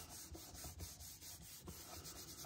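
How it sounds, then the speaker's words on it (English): Soft, steady rubbing on the back of a paper artist trading card to press tape strips down, a faint close scuffing texture with slight rhythmic strokes. "turn it over and give it a good back rub"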